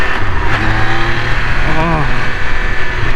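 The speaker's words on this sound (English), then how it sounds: "Just listen to that engine." A 2022 Triumph Speed Triple 1200 RR motorcycle engine revs loudly nearby in road mode, its pitch climbing and falling through a quick throttle blip, with a voice speaking over the rumble.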